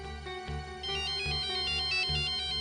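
A mobile phone ringtone plays a bright looping electronic melody with a pulsing beat, steady and fairly close, no talking.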